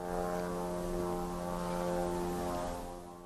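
A steady droning buzz from a small engine of a military drone flying low overhead in the dark, loud and unbroken, holding one pitch throughout.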